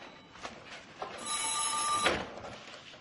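Telephone bell ringing in a busy wartime headquarters, a bright metallic ring lasting about a second alone between faint background noise.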